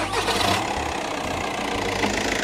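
Volkswagen Passat engine cranks over and settles into a steady, rumbling idle, heard close and continuous with low mechanical drone throughout.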